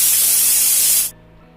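A pressure cooker of rice and dal on a low gas flame vents steam in a loud, steady hiss that cuts off abruptly, leaving only a faint low hum.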